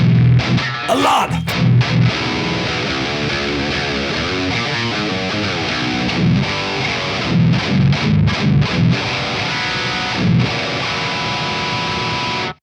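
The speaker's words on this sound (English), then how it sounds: "This is such a full sounding and also beautiful sounding preamp. It's more modern." A distorted electric guitar played through a Synergy MESA Mark II-inspired preamp module, thick and full with chords and sustained notes ringing steadily and loud for several seconds, with no talking.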